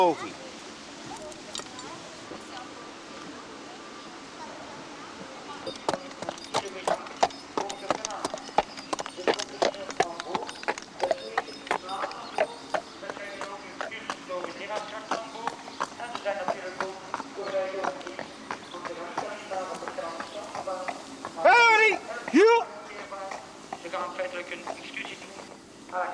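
Horse hooves clip-clop in a steady rhythm as the animal tows a boat along the Canal du Centre, moderately close, with a voice talking over much of it and a brief louder burst near the end.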